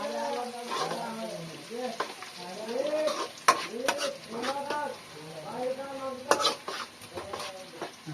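Crushed garlic and ginger paste fries in a pan for mutton curry. A soft sizzle runs under stirring scrapes and occasional clinks of utensils, with a person talking over the cooking.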